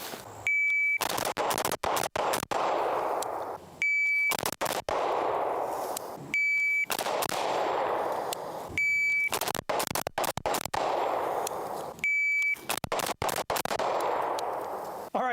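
Rifle shots fired outdoors ring out as sharp, loud cracks in uneven bursts, grouped with short gaps between clusters, with a faint electronic beep tone recurring between them.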